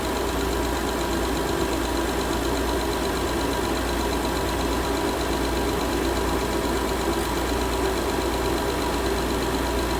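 A 2012 Honda Accord 3.5 engine idles in a steady, even drone with a faint ticking vibration, close and unbroken for the whole stretch, with no talking.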